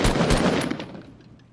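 Rapid automatic gunfire in Fortnite, a loud close burst of shots fading into a short decaying tail.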